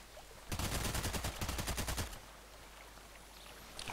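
Automatic gunfire in the Contract Wars shooter game rattles off as a rapid burst of about one and a half seconds, moderately loud, then gives way to quiet ambience.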